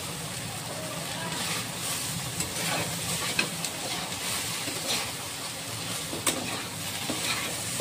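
Taro stolons (kochu loti) sautéing in a pan, a continuous sizzle with stirring scrapes and occasional sharp clicks of a utensil, steady and close, alongside a voice talking.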